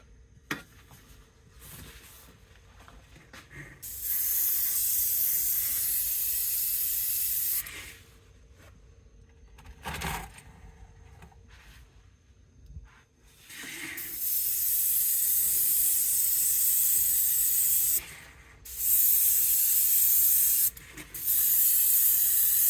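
Bursts of aerosol spray paint hiss over small HO scale model ditch lights held on their stanchion, several long sustained sprays and a few short ones separated by quiet pauses, close and fairly loud.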